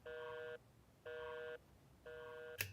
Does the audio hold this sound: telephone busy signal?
yes